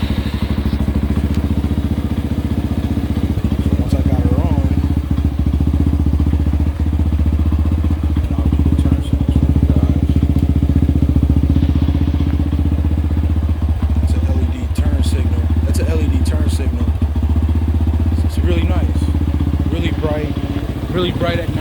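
Apollo DB 36 250cc deluxe dirt bike engine running close by, a loud steady low rumble with a few throttle blips and mechanical clatter, a voice talking briefly over it.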